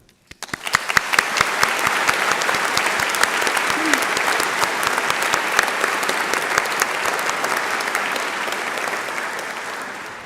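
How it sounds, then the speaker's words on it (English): Audience applause at a university graduation ceremony for the faculty of Business, Law and Social Sciences: dense, loud, sustained clapping from a large crowd that starts abruptly and continues evenly throughout. "giving a special thank you and round of applause to the excellent academic staff"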